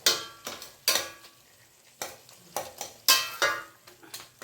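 Cooked tomatoes for tomato gojju get stirred in a pan, a spoon scraping and clinking in irregular bursts, about a dozen close, sharp strokes with quiet gaps between.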